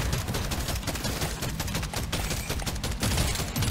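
Automatic weapon in a Deep Rock Galactic-style survivor game fires a continuous, dense stream of rapid shots, loud and steady throughout with a few heavier bursts.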